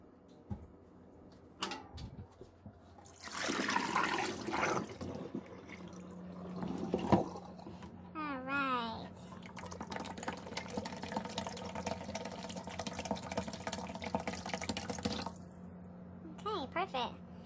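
Water drains and splashes from a plastic container into a sink at close range, a steady pour lasting several seconds with some trickling, while a person speaks briefly.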